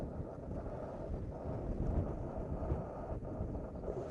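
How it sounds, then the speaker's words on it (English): Strong gusty wind buffeting the microphone at a solo wild camp on Kinder Scout, a continuous low roaring rumble with fluctuating gusts, close and loud, no voices. "It's really windy. The wind's coming from all directions now."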